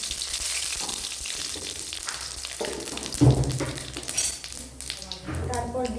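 Cumin seeds dropped into hot oil with sugar caramelised in it crackle and sizzle close up, a busy frying hiss with stirring clinks against the pan and a sudden flare of spluttering partway through.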